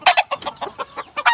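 Hatch gray cross gamefowl roosters, two brothers kept in a pen, give a burst of loud close clucking, a quick run of about eight sharp calls with no talking.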